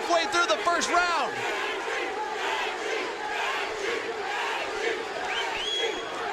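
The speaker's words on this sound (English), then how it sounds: "The crowd is now on their feet, chanting Gaethje." A fight crowd at the Gaethje versus Palomino bout is on its feet chanting, a loud, steady roar of rhythmic voices filling the arena with a commentator talking over it.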